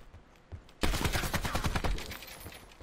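Rapid gunfire in the battle royale game Call of Duty Blackout, a sudden dense burst of loud shots that keeps rattling for about two seconds after a brief quiet lead-in.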